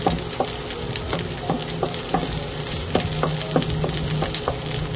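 Onion frying in a pan until golden brown, a loud, continuous close-up sizzle broken by repeated sharp clicks and scrapes of a utensil stirring against the pan, with no talking.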